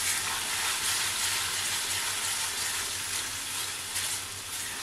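Spice masala with coriander powder and salt frying in a pan, heard as a steady, even hiss of sizzling oil, close and unbroken, with no talking.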